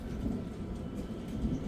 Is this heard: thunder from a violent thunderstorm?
yes